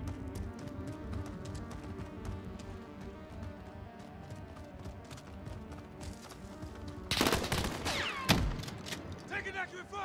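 Gunfire crackles in Call of Duty: Modern Warfare Warzone battle royale, with steady game noise and rapid shot bursts that swell into a loud volley near the end.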